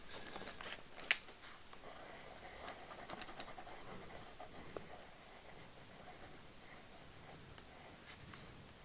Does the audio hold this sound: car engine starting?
no